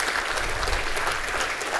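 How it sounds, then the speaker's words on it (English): Conference audience of prostate cancer patients and caregivers applauding steadily throughout, a dense, even clatter of many hands filling the room with no voices rising above it. "so a round of applause for all of us today"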